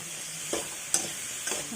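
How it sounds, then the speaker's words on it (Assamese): Potatoes and tomatoes stirred and frying in a pan, with a steady soft sizzle and three brief scraping stirs of the spoon spaced across the moment. "এতিয়া আলুখিনি ভাজি আমি দিম বিলাহীখিনিও আমি সামান্য পৰিমাণে ভাজিম।"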